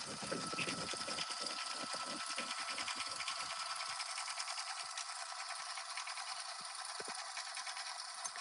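Sewing machine stitching the background of a patch, a steady fast mechanical whir with rapid needle ticks, loudest in the first few seconds and then settling into a quieter continuous hum, no talk.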